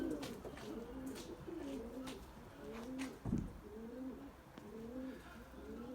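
Pigeons, a white male Bucalı tumbler among them, coo repeatedly in soft, rolling calls, steady and close, with a brief thump partway through.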